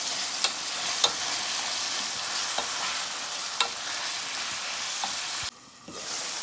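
Tomatoes and onion cook in a pan with a steady, even sizzle, broken by a few sharp stirring clicks and a brief dip near the end; no one speaks.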